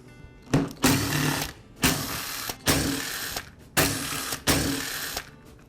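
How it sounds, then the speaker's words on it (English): Starter assembly being removed from a Ryobi hedge trimmer engine, giving five rasping mechanical pulls with ratcheting clicks in a steady rhythm, close and prominent, with no speech. "Now I can remove the starter assembly."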